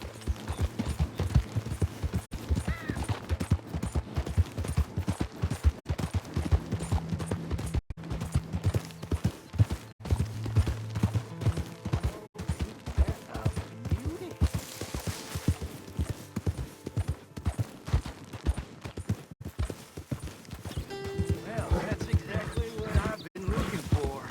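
Horse hooves galloping in the video game Red Dead Redemption 2: a steady, continuous rhythmic clopping throughout at moderate loudness, with a few low tones and brief sounds over it.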